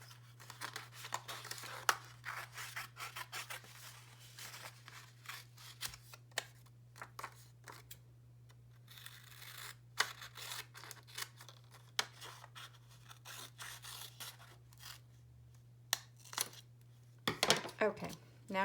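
Scissors cut paper for a star craft, giving close, faint snips and crisp rustles in an irregular run, with occasional louder crinkles, over a steady low hum in a quiet room.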